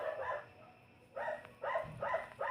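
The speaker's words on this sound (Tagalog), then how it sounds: "Grabe yung aso tol. Hindi minto sa pagkakahol." A dog barks in a series of about five sharp barks, a pause after the first pair and then a quicker run at the end, fairly close and moderately loud.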